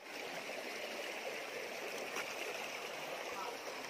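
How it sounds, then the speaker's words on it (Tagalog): Water flows out of Puning Cave in Bulacan, a steady broadband rush and trickle like a stream, continuous and fairly close throughout. "Dito nanggagaling yung tubig guys."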